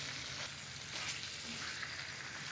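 Cooked chicken with chicken powder being stirred in a pan, a soft continuous frying sizzle with faint scraping, quiet and close, no voices.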